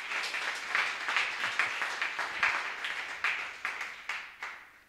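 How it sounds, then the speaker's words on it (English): Church congregation clapping in a sparse, uneven rhythm, individual claps standing out as the sound thins toward the end, fairly quiet and distant. "We can clap better than that."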